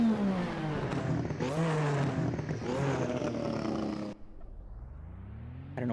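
Lotus 98T race car engine in the Assetto Corsa video game at the Nordschleife, a loud, snarling high-revving scream that climbs through several upshifts, then cuts off abruptly before a quieter idle and a brief rev at the end.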